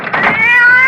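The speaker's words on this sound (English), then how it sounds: "that damn cat!" A cat meows in a long, drawn-out wail with a clear rising pitch. It sounds close and loud and is heard on its own, in a 1974 radio drama.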